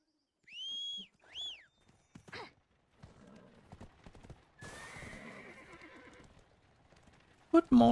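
A horse in the Black Desert video game gives two rising whinnies, then hooves clip-clop in a run of rhythmic steps, followed by a longer stretch of hoofbeats and game sounds.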